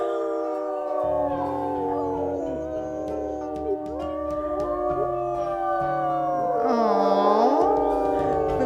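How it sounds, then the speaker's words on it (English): Several wolves howling together in the video game WolfQuest during a pack rally, long overlapping wavering howls that rise and fall, loud and layered, over a low game soundtrack, with no one talking. "we've got some new howls in the mix"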